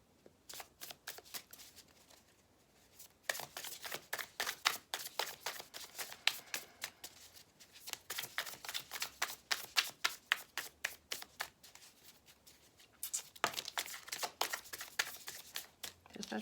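Tarot cards are shuffled by hand in quiet, rapid riffling bursts that repeat in bunches of crisp flutters, with short pauses between rounds.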